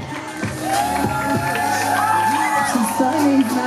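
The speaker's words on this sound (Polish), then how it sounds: "Wielkie brawa." A crowd cheers and whoops loudly, with bright shouts rising over a steady roar of voices and some clapping.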